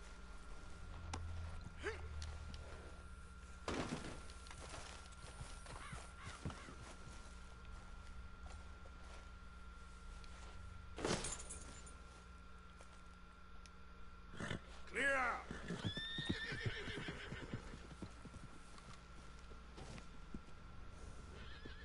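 Horses in Red Dead Redemption 2 whinny and neigh in several loud bursts over a low ambient bed, with hooves clip-clopping and brief voices in between.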